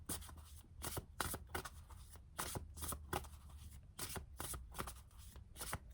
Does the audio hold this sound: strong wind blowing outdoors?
no